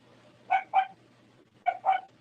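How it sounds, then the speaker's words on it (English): Dogs bark in the background, two pairs of short sharp barks about a second apart, moderately loud and otherwise alone against a quiet room tone. "You got dogs barking in the back."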